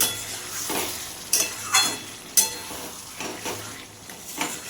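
Spice paste sizzles in oil in a pan for aloo dum, with a soft, steady frying hiss broken by several sharp clinks and scrapes of a spoon against the pan, close and without speech.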